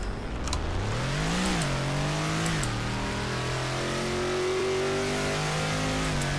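A synthetic Garry's Mod ACF car engine revs and climbs through gears to 100, pitch rising, dipping at each shift, then rising again in a steady, continuous drone.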